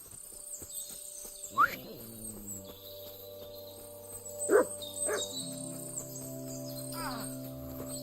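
A dog in Kingdom Come: Deliverance II lets out several sharp, separate barks against a quiet outdoor backdrop of birds and insects.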